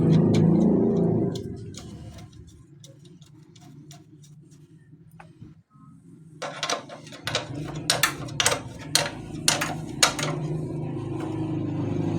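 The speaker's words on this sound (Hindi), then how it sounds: "फिर लोहे की वाशल रख के हम इसके 12 mm के नट को लगा के टाइट कर देंगे" A 12 mm nut being tightened on a motorbike brake drum assembly with a wrench, a rapid run of close ratcheting clicks after quieter scattered ticks and a low rumble at the start.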